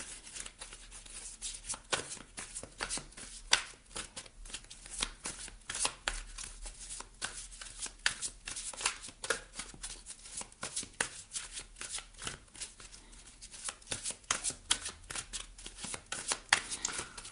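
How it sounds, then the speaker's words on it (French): A deck of Lise Bartoli oracle cards is shuffled by hand, a long run of rapid crisp riffling and flicking bursts, close and clear with no talking. "On va aller voir ici avec justement les cartes lumière de Lise Bartoli."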